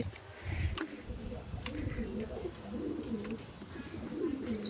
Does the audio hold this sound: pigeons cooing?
yes